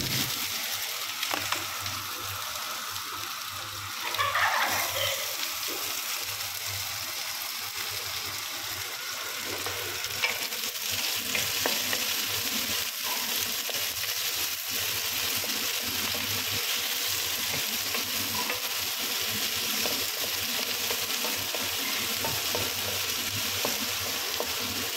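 Garlic sizzling in a hot pan for chicken adobo with gizzards and liver, a steady dense frying hiss lasting throughout, close and even, with faint clinks and no talking.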